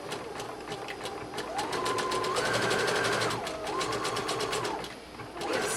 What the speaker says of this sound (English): Now what I'm going to do is go back and zigzag the very edge so that we don't have any fraying.